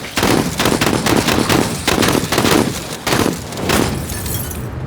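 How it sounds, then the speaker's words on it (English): Shotgun blasts from the game Menace, loud and close, come in a quick volley of heavy booms with brief gaps, and some crunching, glassy debris follows the shots. "let's go ahead and give these guys a little shotgun surprise"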